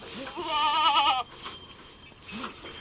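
Goats on a goat farm bleat: a long wavering bleat near and clear, followed by a brief fainter call, with no talk over them.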